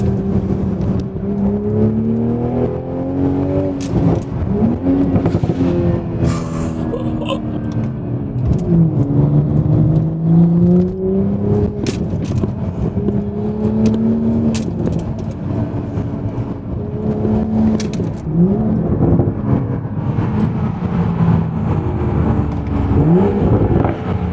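A Toyota GR Supra engine hums and rises and falls steadily as it accelerates and shifts, heard from inside the cabin, loud and continuous throughout.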